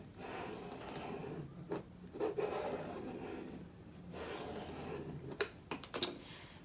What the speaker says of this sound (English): So just use my scraper to press down